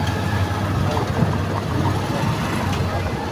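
Queued tricycles idle at a Catholic cemetery in Lopez, Quezon, a continuous low rumbling drone of small engines with faint background voices.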